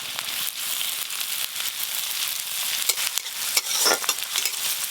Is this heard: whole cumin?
yes